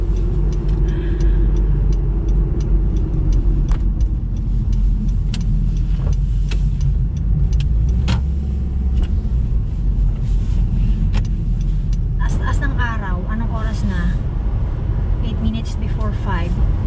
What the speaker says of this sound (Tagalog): Kita ko na agad yung traffic sa highway.